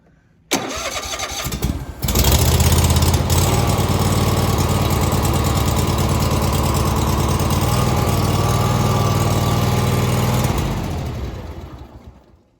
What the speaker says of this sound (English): Let's see if we can choke this and start it up.